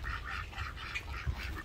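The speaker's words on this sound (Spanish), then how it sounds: "Y el tercero está aquí, como lo pueden observar." Repeated nasal honks from a donated Canada goose (called a Canadian duck) run in a quick steady series of about six calls, close by, over low outdoor rumble with no talking.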